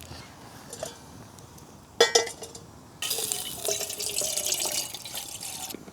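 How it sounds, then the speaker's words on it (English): Water is poured during tea-making at a campfire and splashes onto the fire, with a few faint drips and clinks, then a sharp splash followed by a sustained hissing, sizzling pour. "pours water accidentally on his fire while making a cup of tea"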